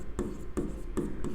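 Writing on a board, three or four quick rhythmic strokes in a short burst, close and moderately loud against a steady low background.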